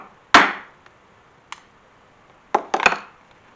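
A few sharp, light taps of a tool marking leather, spaced irregularly, with a quick double tap near the end. Close and fairly quiet.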